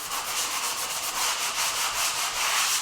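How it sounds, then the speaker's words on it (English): A sanding sponge rubs over a drywall patch covering a screw pop, a close, steady scratchy back-and-forth swish in even strokes, with no talk. "You want to use just a sanding sponge."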